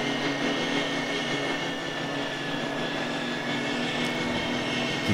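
A recon drone flies in the Call of Duty DMZ video game, giving a steady, continuous engine drone with a propeller-like whir that holds at an even level throughout, with no talk over it.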